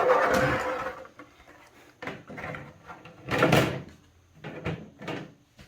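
A door being fitted onto a NutriTower growing unit, heard as a series of short clunks and knocks in bursts, close and moderately loud, separated by quieter gaps.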